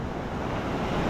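Steady roar of surf breaking on a Philippine shore while shore casting for fish, broad and continuous, mixed with wind rumble on the microphone.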